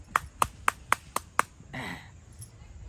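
Six sharp hand claps in a steady rhythm, close and distinct, then a brief murmur of voices. Set in a Maithili village comedy sketch.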